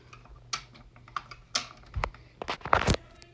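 Lego Ninjago plastic pieces sliding and snapping together: several sharp close clicks and short rattling slides spread irregularly, no voices.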